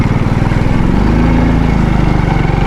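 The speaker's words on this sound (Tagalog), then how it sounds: "Tuloy-tuloy yung andar ng motor nila dyan oh." An irrigation water pump motor runs outdoors with a steady, loud drone, close by and unbroken throughout.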